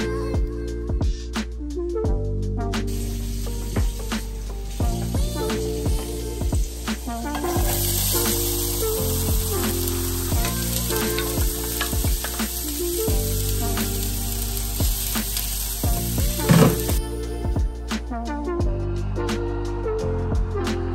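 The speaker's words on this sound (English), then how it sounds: "Here I am just sauteing the veggies for the stuffing." Vegetables for turkey stuffing sauté in a pot, a soft sizzling hiss sitting under louder background music, with occasional stirring knocks and clinks.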